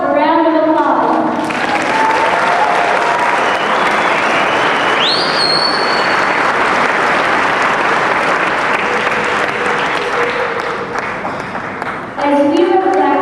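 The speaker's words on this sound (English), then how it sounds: "let us give ourselves a round of applause" Graduation audience applauding at a secondary school ceremony, a loud sustained roar of many hands clapping with occasional whistles, bracketed by a speaker's voice at the start and end.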